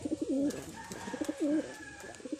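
Pigeons coo nearby in repeated soft throaty rolls, two clear phrases with warbling pitch, loud and close, with faint background hum and no speech.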